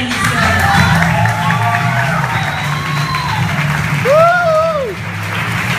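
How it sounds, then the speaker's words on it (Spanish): An audience breaks into loud applause with cheers and whoops at an Omnilife event in Costa Rica, clapping filling the room for several seconds as a voice rises over the crowd. "Un aplauso, bravo."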